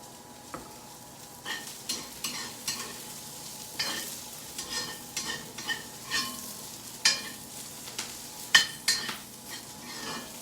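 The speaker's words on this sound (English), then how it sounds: "you want to make sure you maintain that sizzling" Green beans and other vegetables sizzle steadily in a frying pan for chow mein while a utensil stirs and scrapes, producing irregular clinks and scrapes over the continuous hiss.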